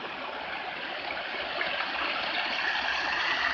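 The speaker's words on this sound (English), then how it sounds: "And the waterfall." Steady, broadband rush of a waterfall pouring into a stream with turtles and fish, a continuous close wash of flowing water that holds even and slightly swells toward the end, with no voices.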